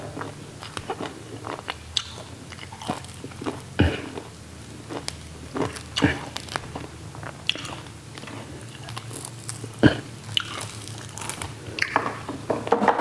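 Someone chews grilled buffalo skin up close, with steady wet bites and crunchy, sticky mastication repeating irregularly over a low background hum.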